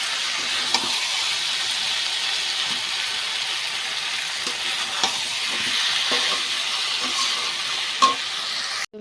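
Potatoes and spice masala frying in a pan as they are stirred together: a continuous bright sizzle close by, broken by repeated soft scrapes and clicks of the stirring spoon, with no talking.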